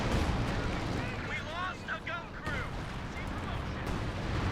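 Artillery fire in the video game Company of Heroes 2, a 4v4 battle on the Lanzerath Ambush map, with booming blasts and rumbling detonations that stay loud throughout, mixed with battle noise under a commentator's voice.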